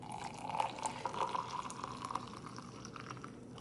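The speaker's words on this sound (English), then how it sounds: "And then you just add the hot water." Hot water poured into a cup over a drink mix with a capful of MCT oil, a steady, soft trickling stream with light splashing throughout, close by and fairly quiet.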